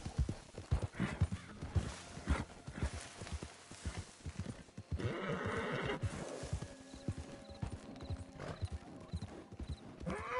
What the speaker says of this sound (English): But this horse is tired